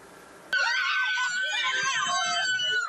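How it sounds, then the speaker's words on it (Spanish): Desperate screams of people in Esmeraldas after a shooting, several voices wailing loudly and continuously after a sudden onset, close and chaotic. "Son los gritos de desesperación registrados la tarde de este miércoles en Esmeraldas."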